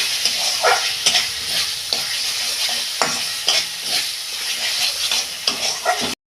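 Spice masala for chana masala sautéed in a pan, a close, loud sizzle broken by regular stirring scrapes and clinks of a spoon against the pan, with no talking.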